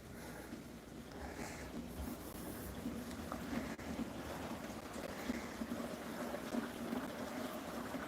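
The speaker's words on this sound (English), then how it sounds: "We got more lightning than rain. Yeah, it's fucking pouring here." Heavy rain pours steadily during a thunderstorm, a dense continuous wash of noise that stays fairly constant for the whole stretch, with no voices over it.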